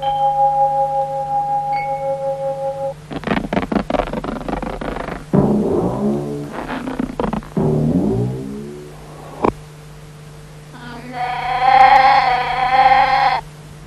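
A sheep gives a loud, wavering bleat near the end, following a series of other tonal calls and sounds earlier on.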